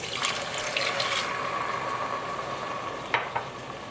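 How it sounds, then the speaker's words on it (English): White wine poured into a hot pan of sizzling rice for mushroom risotto, a loud steady hiss and crackle with liquid bubbling and a couple of stirring knocks near the end. "I'm gonna add another pinch of salt and then the white wine, which is basically grape juice."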